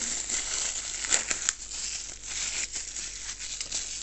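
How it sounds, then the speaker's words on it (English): Crinkling and rustling of a thin plastic bag holding a GoPro tripod being handled and pulled open, with a couple of sharper crackles near the start. "Comes in a little shoddy plastic bag."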